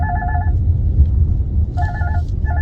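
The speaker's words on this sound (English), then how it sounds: "that's my phone ringing." A mobile phone rings close by in repeated two-tone electronic bursts, each pulse about half a second long, over a low steady rumble in the background.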